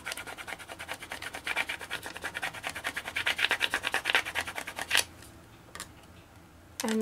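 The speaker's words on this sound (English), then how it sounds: "then take a little scraper tool." A small scraper tool rubs vinyl down onto an acrylic sign in quick, rhythmic back-and-forth strokes for about five seconds, then goes quiet apart from a few faint clicks.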